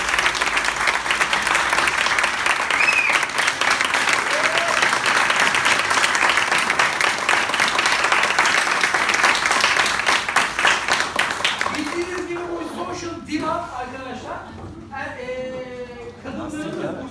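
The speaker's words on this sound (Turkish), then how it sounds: "Sevgi Çınar'ı büyük alkışlarla büyük alkışlarla" An audience applauds loudly and steadily for about twelve seconds after a dance performance, then the clapping thins out as people begin talking.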